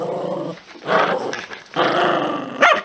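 A pet dog growls in low, rumbling bursts, close and loud, with a short break between two long growls and a sharp yelp-like sound at the end, while a person briefly exclaims.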